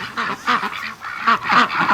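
Ducks honk and quack in short repeated bursts close by while harassing a dog, several calls overlapping in quick succession.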